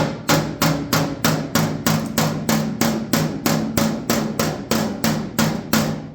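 A flat body hammer taps steadily on a car's dented metal panel, about sixteen even, ringing strikes in a regular rhythm, close and loud with no talk.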